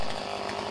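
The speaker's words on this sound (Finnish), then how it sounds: "Isommat energiapuut sahataan eritason sahauksella, jolloin puu voidaan kaataa suunnatusti suoraan kourakasaan." A chainsaw cutting energy-wood trees in a Finnish forest buzzes loud and steady in a brief, continuous burst with no talk.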